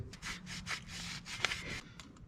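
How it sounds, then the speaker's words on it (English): Scotch-Brite pad scuffing a pitted metal part during vehicle maintenance, a string of quick rhythmic rasping strokes, close and soft, about a dozen passes in two seconds. "I am gonna just give this a quick little scuffing with some Scotch-Brite"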